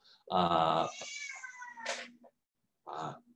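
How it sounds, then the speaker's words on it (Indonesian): A cat meows near a house, two distinct cries with a short gap between them, clear and close in an otherwise quiet setting. "ada kucing di sini"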